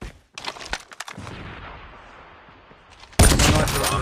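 A sniper rifle headshot in Call of Duty Mobile Search and Destroy: sharp gunfire cracks and game effects, followed by a loud, sustained blast of noise toward the end.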